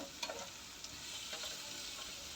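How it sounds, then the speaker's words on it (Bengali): Chopped onion frying in oil for a ridge gourd mash, a soft steady sizzle with a few light stirring scrapes, close and quiet, no voices. "তো এখন আমি ভালো করে ভেজে নিব"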